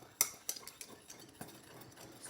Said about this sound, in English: I will actually use a stirring rod